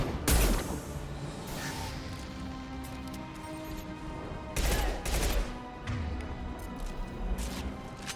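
Gunfire in Mass Effect 2: dense bursts of rapid shots with a heavy blast near the start and another around the middle, sustained crackling fire in between, loud and close.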